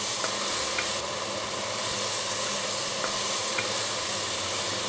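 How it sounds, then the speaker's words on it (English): Ginger, chili and preserved lemon being stirred in a hot pan for a cauliflower, butternut squash and sweet potato curry, giving a steady close sizzle with faint scraping of the stirring. "ginger, chili, and preserved lemon. Give it a good stir."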